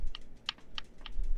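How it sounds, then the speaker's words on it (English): Video game controller buttons clicking right next to a microphone, four sharp, evenly spaced clicks in quick succession, close and crisp over a quiet background. "Oh, that's you clicking."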